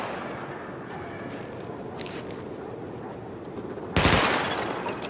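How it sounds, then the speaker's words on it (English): A single sharp, loud burst of weapon fire at a test range in The Division, standing out suddenly against a steady low background hum, then quickly fading. "Open fire at the highlighted targets"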